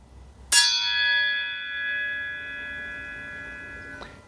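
A table saw blade is struck once and rings like a bell, giving a bright metallic clang with a sustained tonal ring that fades slowly over about three seconds. A faint second tap comes near the end.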